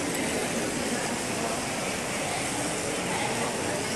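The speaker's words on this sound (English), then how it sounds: "That's the train." A train passes, heard as a steady, loud broadband rumble with rushing noise that holds evenly throughout with no clear start or end.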